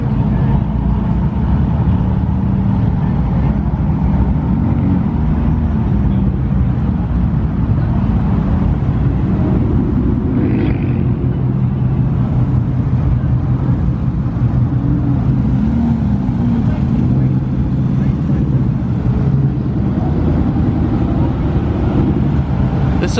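Supercars including a purple McLaren 675LT roll into a Cars and Coffee meet in Houston, a steady low engine rumble and traffic noise running throughout at moderate distance.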